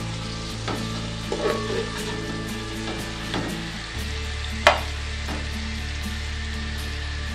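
Onions fry in oil toward golden brown for beef biryani, a loud, close, crackling sizzle with stirring scrapes and a sharp clank near the middle, steady throughout and free of speech.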